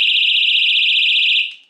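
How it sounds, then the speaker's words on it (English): A personal safety alarm clipped to a dog leash, pulled to sound, gives a loud, steady high-pitched warbling shriek that holds for over a second, then cuts off abruptly and fades. "So if anything happens, you pull it and it makes this loud noise."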